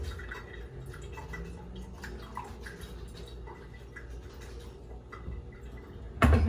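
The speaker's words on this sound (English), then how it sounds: "we're going to usually wait for all the water to drain" Water trickling and dripping as it drains, a series of irregular small drops and gurgles at close range, quiet and steady, ending in a sudden louder clunk.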